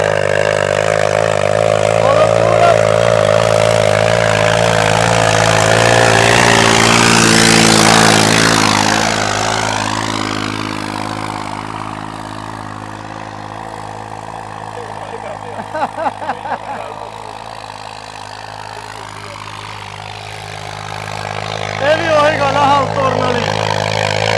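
A New Holland 3630 tractor engine refitted with an in-line pump runs loud and close, a steady diesel drone with a shift in pitch partway through and a few sharp knocks, while someone talks over it.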